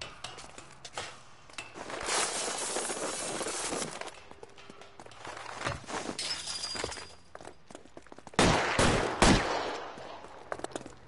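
Gunfire in the crime game LA Noire, a series of loud, sharp shots in irregular bursts with scattered cracks and impacts, the heaviest cluster of blasts landing near the end.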